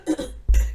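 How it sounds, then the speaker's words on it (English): A single short throaty cough bursts out close by, preceded by a brief murmur of voice, then trails off quickly. "Excuse the cough."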